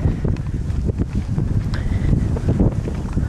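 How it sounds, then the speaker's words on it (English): Strong wind buffets the microphone outdoors on a walk up to an abandoned house, a steady loud roar with gusty rumbling throughout, no voices. "Windy."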